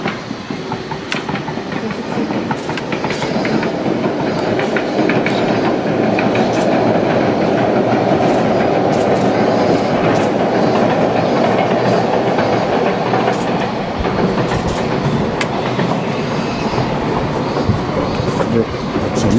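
A train pulls away from a station in Yamagata and runs along the rails, a loud continuous rumble with rattling wheel clatter and clickety-clack that carries on steadily close by.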